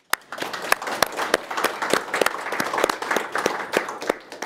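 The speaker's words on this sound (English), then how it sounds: "So a round of applause" Audience members at a farewell lecture event applaud for the co-sponsors, with many distinct sharp hand claps over a rising wash of clapping that stays loud and close throughout.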